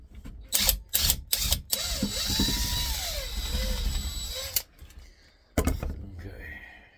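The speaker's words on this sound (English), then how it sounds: "Let me see if I can do it with a drill." A power drill backs out a small screw during a teardown of salvaged junk, whirring steadily for several seconds with varying pitch, framed by clicks and knocks before and after.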